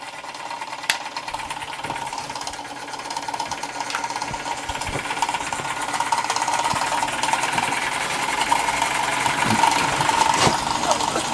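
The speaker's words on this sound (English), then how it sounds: "There it is, running the generator." A Stirlingkit Retrol SE-03 model steam engine drives a small generator through belts, giving a steady close mechanical whir with rapid ticking and occasional sharp clicks, gradually growing louder.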